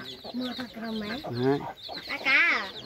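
Chickens on a rural Vietnamese homestead cluck close by in a series of rising, drawn-out calls, with one louder squawking call near the end.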